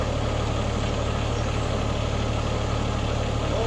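A tractor runs steadily at about 1600 RPM to power a three-point wood splitter, producing a constant, loud, low engine drone with no talking.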